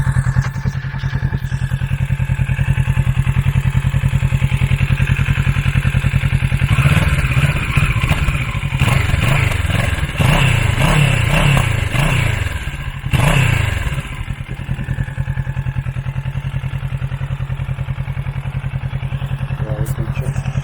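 Kawasaki Ninja 650 A2 2019 motorcycle engine and exhaust while riding, picked up by a poor helmet microphone: a constant loud droning rumble with wind noise and some clattery revving in the middle, no talk.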